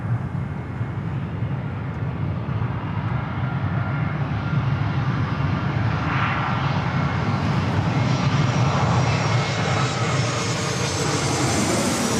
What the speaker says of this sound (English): More plane action here at LAX.